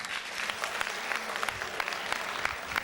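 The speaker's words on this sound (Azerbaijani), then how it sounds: "Bir də Maçdağa kəndinə layiq bir də alqış eləyək inşallah." Dense clapping from a wedding crowd at a meyxana celebration, a steady wash of many hands with no voices over it.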